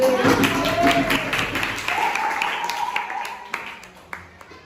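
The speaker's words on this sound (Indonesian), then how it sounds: "Tepuk tangan, tepuk tangan" An audience in a classroom-style study session claps in a burst of scattered applause that thins out over a few seconds, with a few louder isolated claps near the end.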